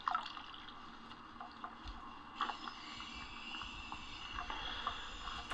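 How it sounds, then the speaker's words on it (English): Water pours and trickles into a freshly dug hole in the ground, a faint continuous splashing and dribbling with small drips, heard alone without talk. "So he's just filling up the hole right now with water."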